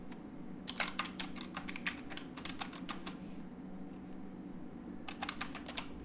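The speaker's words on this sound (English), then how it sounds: "type the program for printing hello world" Keys clatter on a computer keyboard as a short Python program is typed, quick light bursts of clicks with pauses between them over a low room hum, faint and close.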